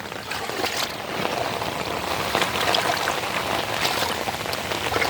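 Steady rain falling continuously, a dense wash of drops hitting surfaces with a faint trickle of water underneath, no voices.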